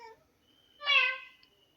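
A woman imitates a cat's meow with her voice, giving one short, rising-and-falling mew, close and fairly soft, after a brief faint bit of talk and followed by quiet.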